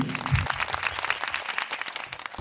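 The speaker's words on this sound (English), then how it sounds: "please have a round of applause for our author, Miss Lee." Applause from an audience welcoming an author at a book launch, a short, fairly soft burst of clapping with no talk over it.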